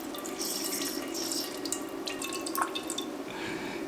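A kitchen faucet in an old off-grid tiny house runs with a steady, moderately quiet hiss of flowing water and a few splashy drips, close by and alone, with no talk.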